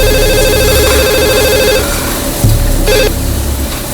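A telephone rings loudly with a steady electronic trill that stops, then starts a short second burst over a low background hum.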